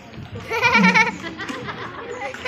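A goat bleats once in a wavering, drawn-out cry, fairly close, followed by quieter murmuring and children's voices in the background of a school Eid al-Adha gathering.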